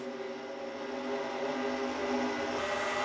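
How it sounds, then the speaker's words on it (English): A race car in a racing video game, stuck in third gear, holds its engine at a steady high-rpm whine that rises slightly and sustains through the whole stretch, loud with dense tonal harmonics and no talk. "You can hear the engine on Dalton's car revving as high as it goes"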